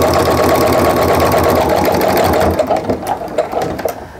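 A sewing machine stitches an outline around a scrappy Christmas tree on a quilted mug rug, running loud and fast for a few seconds before stopping and leaving a few faint clicks.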